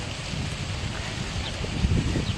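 Wind blows steadily across the microphone with soft low rumbling gusts, fairly quiet, and a few faint bumps toward the end.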